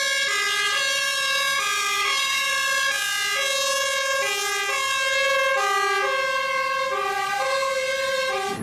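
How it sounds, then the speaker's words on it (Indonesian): A toy fire engine plays an electronic siren, a loud, clear two-tone melody of repeating beeping notes that runs steadily throughout with no talking. "yang ini mobil pemadam kebakaran"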